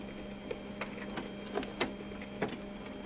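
A printer feeds and prints a glossy transfer sheet, making a soft steady mechanical whir with a faint electrical hum and light clicking ticks at irregular intervals.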